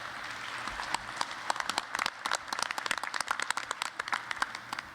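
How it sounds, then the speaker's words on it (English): Applause from a modest crowd, individual claps distinct and irregular, building then holding steady at a moderate distance. "So give yourself a round of applause and thank you for that."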